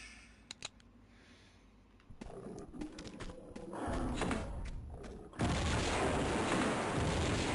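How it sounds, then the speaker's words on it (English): Grenade launcher fire in Tomb Raider II Remastered: a couple of faint clicks, then heavy thumping blasts and rumbling impacts building in loudness, ending in a sustained loud roar of explosions and noise. "we should be fine to kill with the nade launcher"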